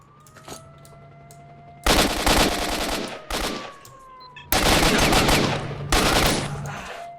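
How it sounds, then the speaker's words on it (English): Gunfire in S.T.A.L.K.E.R. Shadow of Chernobyl: several loud bursts of rapid automatic shots separated by short pauses, with a faint ambient hum and a rising whine between volleys and no speech. "Just keep shooting, killing, taking their ammo one at a time."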